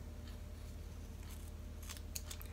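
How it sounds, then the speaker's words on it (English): Scissors snip through excess synthetic hair while finishing faux goddess locs, a few quick, close cuts heard over a steady low hum. "Get your scissors and you kind of just want to cut the excess, cut it all"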